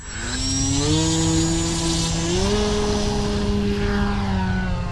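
A buzzing model airplane engine drones steadily and loudly, its pitch shifting up and down as the craft flies past overhead.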